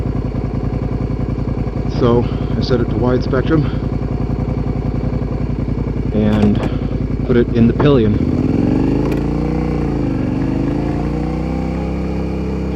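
A motorcycle engine idles with a steady low pulsing drone throughout, heard close as someone talks over it, then revs briefly and settles into a smooth, lower hum.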